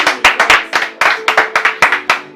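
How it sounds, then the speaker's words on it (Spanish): A church congregation claps for the Lord in a loud, close, rhythmic series of sharp hand claps, about a dozen strong beats in quick succession. "Dale ese fuerte aplauso al Señor."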